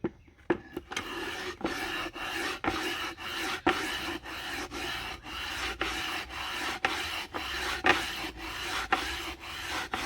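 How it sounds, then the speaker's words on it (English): A gritty, rasping grind of sandstone rubbed on a slate sharpening stone repeats in steady back-and-forth strokes, close and fairly loud, with no talking. "when the sandstone is being rubbed on the slate"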